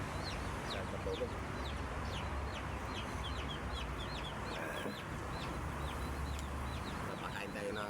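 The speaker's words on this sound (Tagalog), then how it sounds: "Napakain tayo ng ating mga alagang manok saka bibi." Backyard pet chickens and ducks clucking and chirping busily around feeding time, many small overlapping calls from a flock at close to middle distance, with a voice talking faintly beneath.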